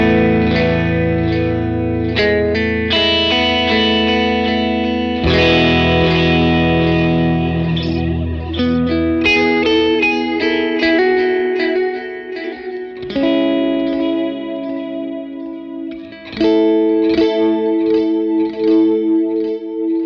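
Electric guitar played through a Universal Audio pedal set to a chorus effect, with shimmering, wavering sustained chords and arpeggiated notes ringing out loud and close with reverb tails.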